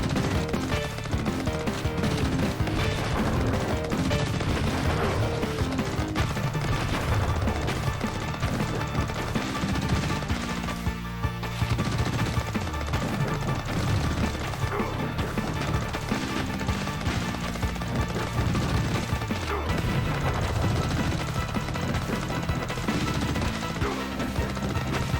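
Dense barrage of retro-style gunfire and grenade explosions during a boss fight in the Sega Genesis / Mega Drive game Xeno Crisis, played on real hardware, with constant loud crashing blasts layered over game music.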